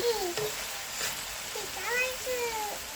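Potato bhaji fries in a pan with a continuous soft sizzle, and a few faint clinks and high tones sound over it as a voice and other speech are heard faintly in the background.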